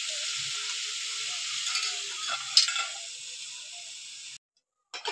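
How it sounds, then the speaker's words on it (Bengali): Bottle gourd sautéing in a pan gives a steady, fairly loud sizzle with a few stirring scrapes, then cuts off abruptly near the end before a brief clatter. "এবার একটু লাউটা ভালো করে কষিয়ে নেব।"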